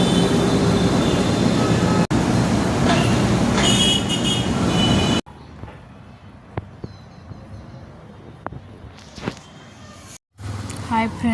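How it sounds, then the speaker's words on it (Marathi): A train passes with a loud, continuous rumble that cuts off sharply, followed by quieter street ambience with scattered knocks and a brief return of noise at the end. "हे बघा ट्रेन चाललेली आहे."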